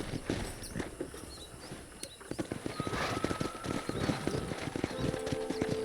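Horses' hooves clip-clopping in a fast, steady rhythm at close range in the video game Red Dead Redemption 2, with a brief whinny and faint bird calls behind.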